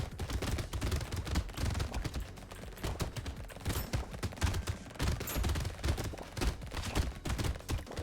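Rapid submachine gun fire in the video game Brotato, dense continuous rattling bursts with layered game sound effects, loud and steady throughout with no talking.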